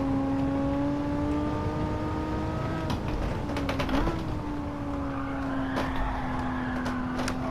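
A Gran Turismo 7 race car lapping a track under suspension tuning holds a steady engine drone that dips and climbs through shifts, with short tire and mechanical clicks mid-lap, loud and close throughout without speech.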